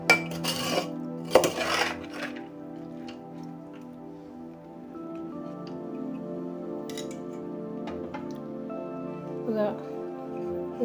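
Colourful laddoo kali (fried gram-flour drops) are stirred in sugar syrup in a metal pot, with a few sharp metallic clinks and scrapes early on, then a soft steady background.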